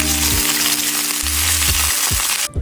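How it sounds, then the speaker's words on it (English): Meatballs sizzle loudly as they brown in olive oil in an iron frying pan over medium heat, a steady close frying hiss with occasional low bumps as they are moved. "Brown your meatballs."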